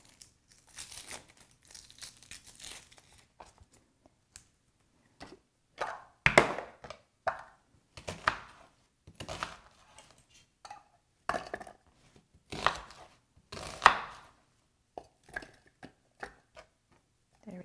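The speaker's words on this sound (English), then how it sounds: "I'm going to go ahead and cut up some onions using the manual food processor" Onions are chopped in a manual food processor in short bursts of crunching, clattering strokes separated by pauses, close and moderately loud.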